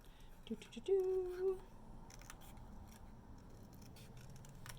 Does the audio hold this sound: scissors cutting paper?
yes